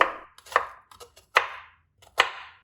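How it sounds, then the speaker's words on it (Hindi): An onion is finely chopped with a knife on a board: five or six sharp, separate knife strikes land in an uneven rhythm, close and clear, with no talking. "प्याज को हम बारीक बारीक काट लेंगे"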